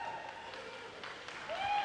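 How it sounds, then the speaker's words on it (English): Applause from spectators at a para-swimming meet, faint and distant, a soft patter of clapping that swells slightly near the end, with a short whistle-like tone. "Ladies and gentlemen, Jess Long, bigger round of applause than that."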